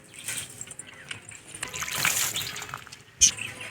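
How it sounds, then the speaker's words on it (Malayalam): Water trickles and splashes as it is poured onto fresh soil around a potted dracaena plant, with soft uneven dribbling that swells in the middle and ends with a brief louder splash. "ഇനി നമുക്ക് കുറച്ച് വെള്ളവും കൂടി ഒഴിച്ചു കൊടുക്കാം അതിലേക്ക്"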